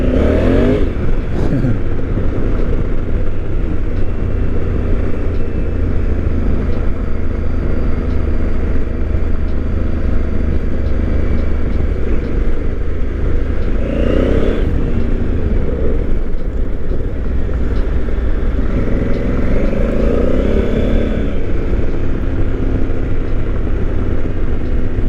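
A 2020 Honda Africa Twin adventure motorcycle's engine drones steadily while riding, its pitch rising and falling with revs and shifts, constant and close throughout with steady wind rush.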